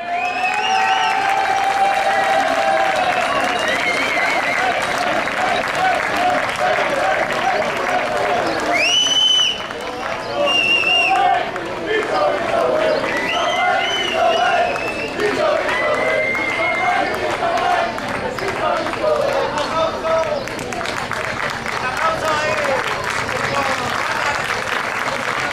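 An audience applauds at a prize-giving for a Mayos competition, with sustained loud clapping and some cheering filling the room and voices talking over it.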